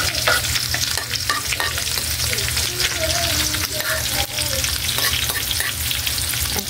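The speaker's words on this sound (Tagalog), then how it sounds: "Maggisa na po tayo ng ginamos." Ginamos, a fermented fish paste, sautés with garlic in a hot pan. A loud, steady sizzle and crackle runs throughout, broken by scraping stir strokes, with no talking.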